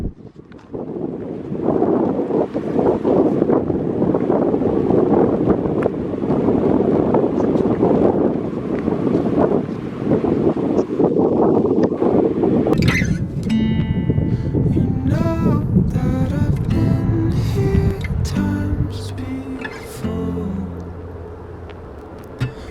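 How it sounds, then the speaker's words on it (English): Strong wind buffets the microphone at an airport, a loud, continuous roar with gusting swells; later, tonal mechanical or engine sounds rise through the blustery noise. "It is getting windy though"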